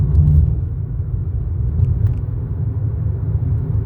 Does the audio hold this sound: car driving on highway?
yes